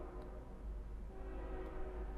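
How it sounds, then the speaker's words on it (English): A train passes at some distance, a low, steady rumble that holds through the whole moment with a faint higher whine on top, no voices over it. "That's a train."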